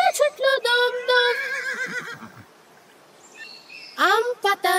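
A cartoon horse in a Bengali children's rhyme whinnies loudly in a rising, wavering call, falls quiet, then neighs again in short bursts at the end.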